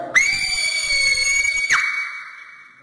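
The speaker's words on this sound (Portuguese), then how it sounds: "Vai, você deu o maior grito aí que você puder." A person screams as loudly as possible at a glass, trying to break it, in a challenge game. The piercing, sustained high scream is very loud and close, and it jumps sharply in pitch near the end before trailing off.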